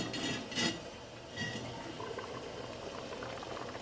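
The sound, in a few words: beef stew coming to a boil in a lidded pot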